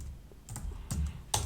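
A few keystrokes tapped on a computer keyboard while a name is typed for a copied screen in Figma, irregular soft clicks close by with quiet gaps between them.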